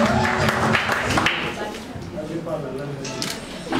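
Cheering and applause at a civil wedding, a lively crowd clapping and calling out loudly at first, then easing into scattered claps and chatter with camera clicks.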